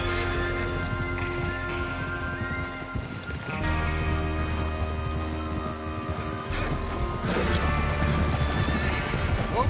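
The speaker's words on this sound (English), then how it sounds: "Get your horses ready." Horses neigh and whinny repeatedly in Red Dead Redemption 2, with hooves clip-clopping and rain falling steadily throughout, the whinnies loud and close over a continuous game ambience.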